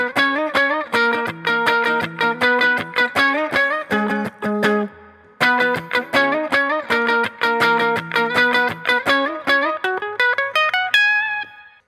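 Electric guitar plays a picked intro riff in a rhythmic run of clean single notes, pausing briefly and then repeating before ending on a held note, loud and close with no talk.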